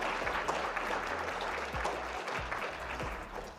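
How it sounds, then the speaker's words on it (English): An audience applauds a panel of debaters at a podcast event on large language models for Africa, a steady round of clapping that holds for several seconds, fairly close and full, with no talking over it. "If we can give them a round of applause"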